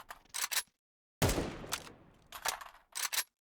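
Bursts of rapid gunfire in Counter-Strike 2: a couple of short volleys, then a louder booming burst with a trailing decay, followed by two more quick clusters of shots, close and punchy with silent gaps between.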